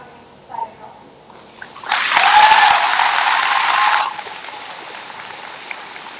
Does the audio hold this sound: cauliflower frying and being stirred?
no